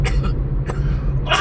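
A single person coughs sharply a few times, close and fairly loud, over a low steady hum of background noise.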